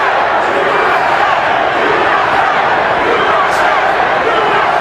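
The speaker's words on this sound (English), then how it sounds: "you hear a chanting of USA as American fans here take up the chant to support Mayweather against Mexican fans" Crowd at a professional boxing match, American fans chanting USA, heard as a dense, steady roar of many voices filling the arena for the whole stretch, loud and continuous with no clear individual words.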